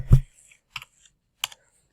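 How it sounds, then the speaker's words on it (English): Computer keyboard typing, three separate keystroke clicks spaced across a quiet two seconds, the first loudest with a dull thump and the later two sharper taps. "I hope my typing isn't too loud for you."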